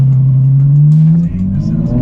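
A Ferrari F12 fitted with a Frequency Intelligence exhaust revs loudly and close, its deep engine note climbing steadily in pitch over a couple of seconds.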